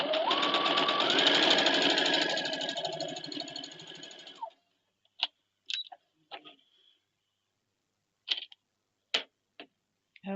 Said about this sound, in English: we're going to sew a 1/4 inch down this block